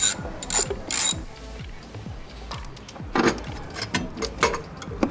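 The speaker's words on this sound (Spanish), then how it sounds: "Un dado de 10 milímetros, vamos a sacar los dos tornillos de la computadora." A ratchet fitted with a 10 mm socket loosening the bolts that hold a car's computer, with rapid clicking pawl runs in quick repeated strokes, close and clear, with short pauses between bursts.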